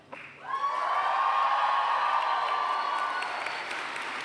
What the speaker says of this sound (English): but one more huge cheer.